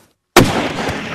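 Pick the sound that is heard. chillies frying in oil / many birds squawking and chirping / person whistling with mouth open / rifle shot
rifle shot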